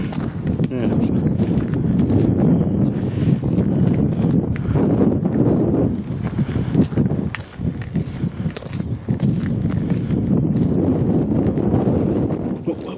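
Wind buffets the microphone outdoors on a cold, grey, windy afternoon along a lane, a steady loud rumble lasting throughout with brief lulls and a faint crunch of footsteps.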